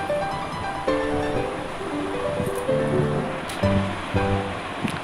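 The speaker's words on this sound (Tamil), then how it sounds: "இது எல்லாமே சேர்த்து நல்லா கொதிக்கட்டும்" Urundai kulambu curry with turmeric simmers and bubbles in a pot, giving a steady, close hiss with occasional louder bubbling bursts over faint background music.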